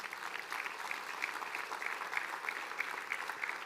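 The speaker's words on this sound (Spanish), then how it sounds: "¿Cuánto le dan un aplauso a Jesús?" A church congregation claps together in a fairly faint, sustained round of applause, even and continuous throughout, with no speech over it.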